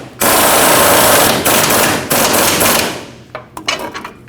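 An impact tool running in a loud continuous rattling burst as the bolt on a Nissan Frontier fuel tank strap is driven tight, close up, with short pauses and fading clicks at the end.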